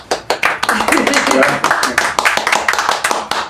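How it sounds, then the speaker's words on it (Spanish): Clapping greets a presidential pre-candidate at a question-and-answer event, a modest round of distinct, fairly close handclaps in an uneven rhythm, mixed with voices in the background. "Un aplauso."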